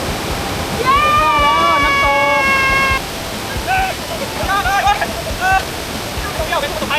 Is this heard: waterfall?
yes